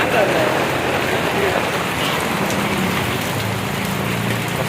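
Heavy monsoon rain in Ratnagiri roars as a dense, continuous wash of close, loud drumming on surfaces, unbroken from start to finish.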